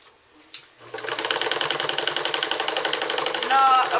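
A Morse Fotomatic sewing machine runs a steady straight stitch through four layers of farmer overalls, about ten stitches per inch, with a fast even mechanical rattle starting after a brief pause and staying loud and close throughout.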